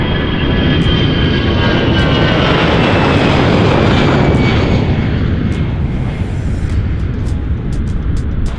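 A Saudia Boeing 777-300 in a special Formula E livery taxis for takeoff, giving a loud, steady jet engine roar with a droning whine that holds throughout, with no talking.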